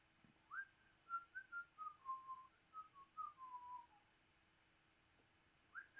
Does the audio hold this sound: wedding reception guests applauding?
no